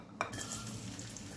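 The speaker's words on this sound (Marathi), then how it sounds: "तेल गरम झाले, लसूण टाकूया।" Garlic dropped into hot oil in a kadhai on a gas stove sets off a steady close sizzle with a sharp burst at the start, over a low continuous hiss.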